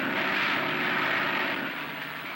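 A propeller-driven airplane engine drones steadily with a broad, rough roar in a scene from an old Hollywood film, holding loud and even throughout and easing slightly toward the end.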